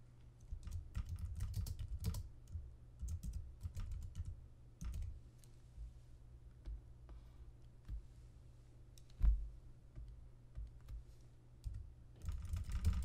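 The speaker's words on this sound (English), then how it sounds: "I just will type" Quiet clicking of a computer keyboard being typed on, bursts of rapid keystrokes separated by short pauses, close and soft with no talk.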